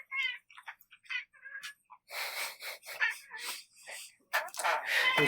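Cat meowing in short high cries between bursts of a person speaking, with the talk louder and the meows brief and close.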